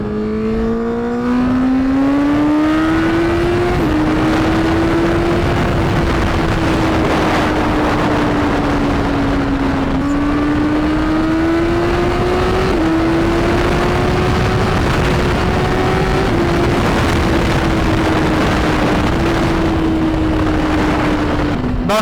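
A Honda CBR1000RR Fireblade motorcycle accelerates hard through traffic with a loud, steady engine roar that climbs in pitch through repeated gear changes, with no talking.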